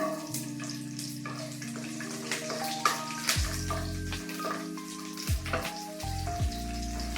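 Garlic goes into hot oil after mustard seeds have popped, for a lubika pickle; a soft, continuous frying sizzle sits close but partly under tonal background music.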